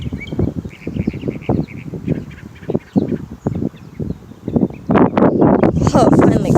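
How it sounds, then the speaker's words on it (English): A single bird cycles through many different calls, chirps and squawks in quick, varied succession, loud and close, mixed with people talking and background noise. "I swear it's making the sound of every bird."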